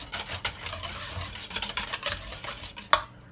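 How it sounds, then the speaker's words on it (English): A spoon scrapes and rasps through chopped food in a pan during a chicken shawarma preparation, with steady quiet stirring strokes, a faint sizzle underneath and a sharp clink near the end. "we'll give it just a stir around"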